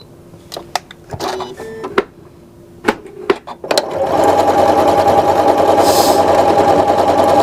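Sewing machine stitching galloon trim: scattered clicks and handling taps at first, then the motor starts and runs a loud, steady stitching whirr to the end.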